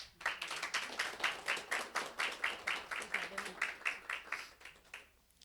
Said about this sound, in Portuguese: uma salva de palmas para a Aline.